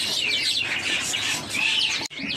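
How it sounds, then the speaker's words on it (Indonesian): A caged green leafbird (cucak hijau) sings in a rapid, close, loud stream of varied chirps and whistled phrases that briefly cuts out near the end before resuming. "Di sini ada burung cuca hijau yang body super atau body big ya."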